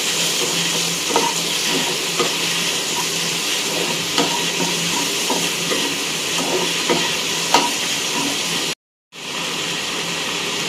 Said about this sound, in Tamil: அந்த சட்டியிலே போட்டு நம்ம நல்லா வணக்கிடலாங்க